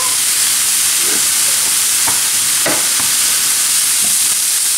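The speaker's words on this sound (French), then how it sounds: "Alors après la coloration, je rajoute un peu de viande hachée." Minced beef sizzles loudly and steadily in a hot pan as it fries, with a few sharp scrapes and knocks from stirring and breaking up the meat, and no one speaking.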